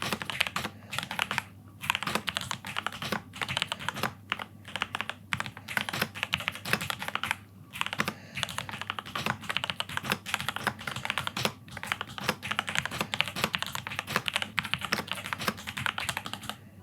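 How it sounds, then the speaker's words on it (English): Steady, rapid clacking of mechanical keyboard keys being typed on close up, with brief pauses between bursts and no talking. "Do you want to hear the keys? We'll try the keys."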